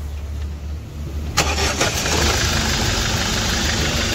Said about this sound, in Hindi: हाँ देखते गाड़ी अपना एकदम साफ चल के स्टार्ट एकदम।